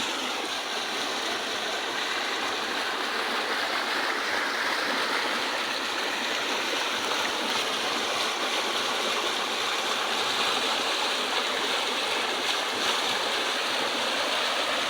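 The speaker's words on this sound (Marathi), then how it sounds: "बघू शकता आमच्या नालीला पाणी आलेले आहे" Rainwater rushes steadily through a village drain after a night of heavy rain, a continuous broadband gushing roar close by with no pauses or voices.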